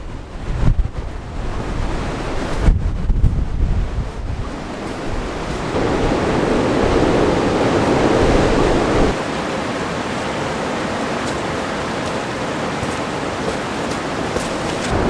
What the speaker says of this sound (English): Bit windy around here.